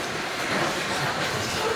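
New York City subway train riding along, a steady broadband rumble and rush of the car in motion, loud and close from inside, with no clear talk.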